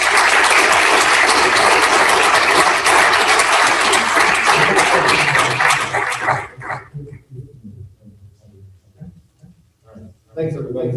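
Meeting audience gives a loud round of applause for about six seconds, many hands clapping densely before it stops abruptly, followed by scattered voices, a dog barking and whimpering, and a brief return of noise.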